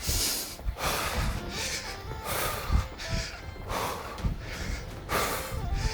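Heavy, rhythmic breathing during a side shuttle exercise in a bodyweight home workout, with repeated forceful breaths and snorts close to the mic.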